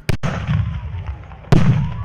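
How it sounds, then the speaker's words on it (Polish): Two loud, booming bombard cannon blasts, about a second and a half apart, each followed by a rumbling echo, signalling the start of a medieval battle reenactment. "Sygnał do rozpoczęcia dały wystrzały z odpalonych bombard."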